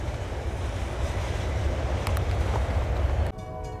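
A westbound CN L571 freight train, led by a very smoky Norfolk Southern locomotive, rolls past near New Hartford, Iowa, with a loud, steady, close rumble and rattle of wheels and wagons that cuts off abruptly near the end.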